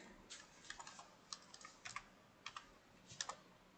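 Quiet, close clicking of computer keyboard keys while Python code is being written, in short irregular bursts of keystrokes with brief pauses, with no talking.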